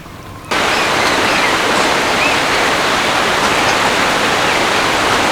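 Hot gravy poured over stuffed papad in a vegetarian papad curry, a sudden onset of steady broadband splashing and hissing pour that continues evenly and loudly for several seconds, close up, with no speech.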